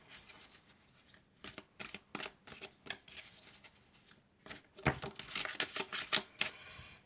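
Fairy tarot cards are shuffled by hand in a quiet room, a string of short crisp riffling bursts with brief pauses between, close and fairly soft.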